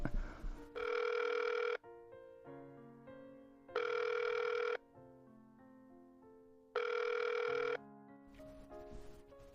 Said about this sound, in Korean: 누구 전화인데 안 받아?